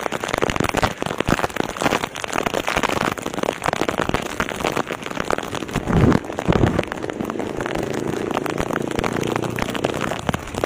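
Heavy rain in Caloocan City hammers down during a bike ride, a dense, continuous crackling patter of drops with a few louder splashes, steady and close throughout.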